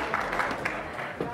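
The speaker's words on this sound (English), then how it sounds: "Another round of applause, everyone." A conference audience applauds at the close of a Bitcoin for Corporations event day, a brief patter of clapping from a mid-sized crowd with some voices mixed in.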